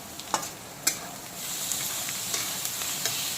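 Chopped onion frying with ginger, garlic and green chili, a continuous close sizzle in hot oil punctuated by a few sharp scraping stirs of a spatula, with no talking.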